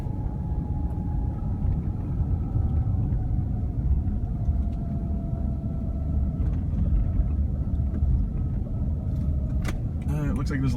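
Interior of a car rolling slowly past Terminal 4 at Ontario airport in California, with a steady low engine and road rumble throughout and faint rattles and clicks near the end.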